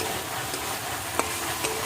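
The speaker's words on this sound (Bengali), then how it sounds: "এই যে আমি চিচিঙ্গার আলুটা ভাজছি" Continuous sizzle of ridge gourd and potatoes frying together, with occasional light clicks of a utensil against the pan.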